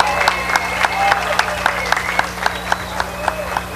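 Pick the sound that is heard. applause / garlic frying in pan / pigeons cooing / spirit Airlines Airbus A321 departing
applause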